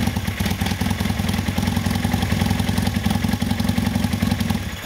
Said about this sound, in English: I'm gonna fire this bike up